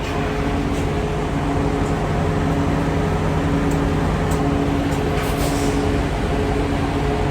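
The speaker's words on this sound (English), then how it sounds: "Trucks and the reefers and everything else running." Trucks with refrigeration reefer units and generators idling at a truck stop, a loud, constant mechanical drone with a low steady hum and faint tonal whine, unbroken throughout and with no talking.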